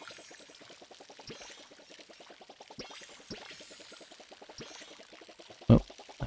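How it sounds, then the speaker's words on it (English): Watering plants in a video game produces rapid rhythmic pouring and splashing, a fast pulsing trickle with occasional soft thuds and a sharp click near the end. "little pepper plants need some water too"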